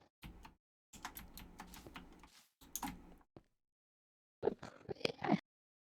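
Short bursts of keyboard typing come in quick clustered clicks, broken by several silent pauses, close to the microphone.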